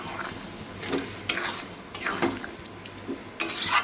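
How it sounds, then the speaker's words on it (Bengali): Boiled peas being stirred into potatoes frying in a pan for vegetarian ghugni, with a steady low sizzle under intermittent scraping and stirring strokes, close by. "এই যে মটরটা সেদ্ধ করে রেখেছিলাম যেটা, সেটা ঢেলে দিলাম। এবার মিশিয়ে দিই।"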